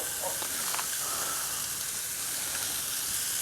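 Pork chops sizzling on a cast iron grill, a steady hissing crackle with faint pops, close and continuous without talk.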